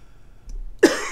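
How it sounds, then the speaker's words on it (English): One short, harsh cough from a sick person close by, sounding suddenly after a quiet moment during a tour of a brewing setup. "sorry to cough at you"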